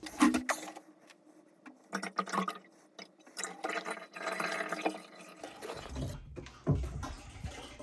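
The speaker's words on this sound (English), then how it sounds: "I just let this pan drip drain in this barrel" Used engine oil from a 1984 C4 Corvette oil change drains from a pan into a 15-gallon drum, heard as close, irregular drips and trickles with short splashy bursts and quiet gaps between them.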